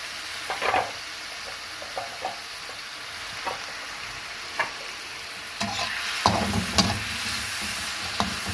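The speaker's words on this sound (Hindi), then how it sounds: "अब हम कढ़ाई में डालेंगे ऑयल और साथ ही हम शामिल कर देंगे प्याज जो हमने काट के रखा था" Chopped onion frying in oil in a kadai, a continuous sizzle with scattered spoon scrapes and clinks that grow busier and louder toward the end; no voices.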